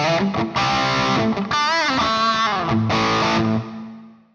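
Electric guitar through a crunch amp preset on a Quad Cortex plays chords with crunchy overdriven distortion and a bent, wavering lead phrase, ringing out briefly at the end.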